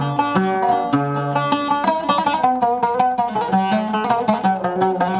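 Solo oud plays a lilting 6/8 rhythm, close-miked plucked notes grouped in sixes, bright and continuous without any talking.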